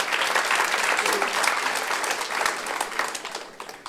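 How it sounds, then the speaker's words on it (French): Congregation at a Christian church service applauding together, a dense steady patter of many hands clapping that tapers off toward the end, with faint voices mixed in. "On peut l'applaudir."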